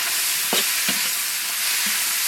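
Garlic cloves, chili sauces, dried chilies and onion chunks stir-fried in oil in a wok: a continuous hiss of frying broken by a few scraping stirs of the spatula, with no one talking.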